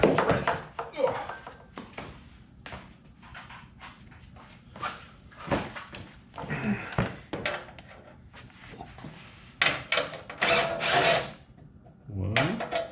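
A 1/2-inch socket and wrench work the muffler guard bolts on a Cub Cadet RZT-54 zero turn mower, giving irregular ratcheting clicks and metallic scrapes up close, with someone talking and grunting throughout.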